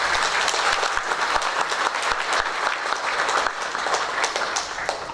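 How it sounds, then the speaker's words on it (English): Loud, dense applause from a large conference audience, sustained clapping that fades slightly toward the end. "round of applause."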